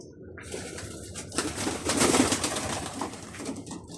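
Young pigeons coo softly and repeatedly at close range, the soft rolling calls swelling in the middle and then fading, with no talk.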